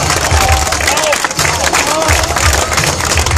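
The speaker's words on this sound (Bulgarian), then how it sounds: "моля вашите аплодисменти за третия" Loud, dense applause from an audience at an award ceremony for a Scania truck driver competition in Bulgaria, continuous clapping with some cheering and low rumble underneath.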